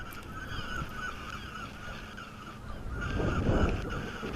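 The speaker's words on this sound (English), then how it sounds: "You can hear the seagulls because they're quite near me." Seagulls call near a harbour wall on the North Sea coast at Arbroath, with harsh, repeated cries that sound close and steady over a constant windy outdoor hiss. The calls swell a little louder toward the end.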